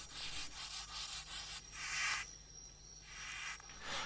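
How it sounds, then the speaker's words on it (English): A dry, scratchy rubbing rasp repeats in uneven strokes, close and fairly faint, made by a beetle moving its neck backwards and forwards. "This type of beetle moves its neck backwards and forwards to make a rubbing noise."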